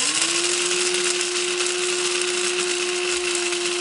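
A mixer grinder runs steadily and loudly, grinding a fine wet coconut masala for a Sangli-style fish recipe. Its motor whine holds one constant pitch throughout with no pauses, and no one speaks.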